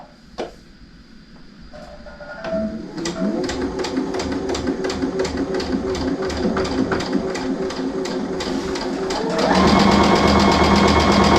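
A sewing machine stitches the layers of a star-spangled quilted wall hanging, its needle chattering in a fast, even rhythm that settles into a steady run and grows louder and denser near the end. No one speaks.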